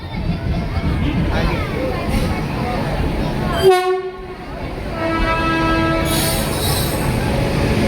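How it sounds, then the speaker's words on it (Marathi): A passenger train pulls into a crowded station platform during the Shimga festival trip in Konkan, with steady rumbling, squealing wheels and a short horn toot midway, under background crowd voices. "मित्रांनो गाडी आलेली आहे"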